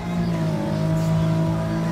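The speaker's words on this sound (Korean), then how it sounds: "저는 지금 엔진 소리가 조금이나마 나고 있기 때문에" In Gran Turismo 7, a historic sports car runs at Goodwood Motor Circuit with manual gears, its engine a steady, droning hum held at even pitch while someone talks over it.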